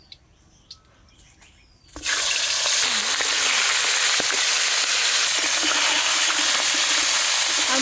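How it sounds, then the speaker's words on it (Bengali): Fish heads drop into hot oil with a sudden loud sizzle after a quiet start, then fry steadily in a dense, continuous crackle for several seconds. "এখন মাছের মাথাগুলো ভেজে নেব।"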